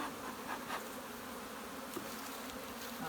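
A full box of honey bees in a hive gives off a steady, close, dense buzzing that holds even throughout, with no voices.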